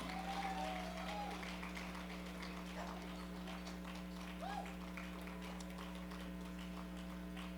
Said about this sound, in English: keep the applause going when you see the people you know